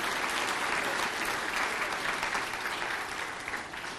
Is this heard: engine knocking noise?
no